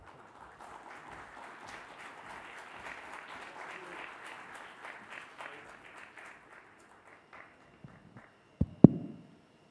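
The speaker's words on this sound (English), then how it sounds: "let's give the Foreign Minister a very warm round of applause for this" Audience applause for India's Foreign Minister at the Indo Japan Conclave 2022, a steady moderate clapping that fades out by seven seconds, followed by a couple of sharp thumps.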